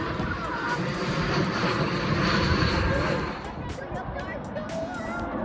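A fixed-wing airplane passes near the Gold Coast airport at Palm Beach, a broad, loud engine roar that swells and then eases, heard outdoors with crowd babble underneath.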